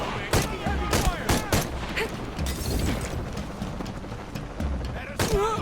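Heavy gunfire in Shadow of the Tomb Raider: rapid, loud volleys of sharp shots in clustered bursts, with mechanical clatter and a voice heard briefly amid the combat noise.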